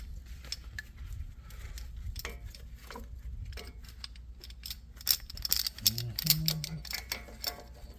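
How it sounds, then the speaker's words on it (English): A clamp presses the brake caliper piston back on a 2006–2015 Honda Civic Si, producing close, dry mechanical clicks and ratcheting creaks, with some low background noise. "you need one of these or any type of clamp you have that could push it back"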